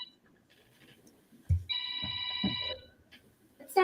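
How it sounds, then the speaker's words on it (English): A telephone ringing with a steady electronic trill of about one second, mid-level, amid low thumps and faint background room noise. "This phone's ringing."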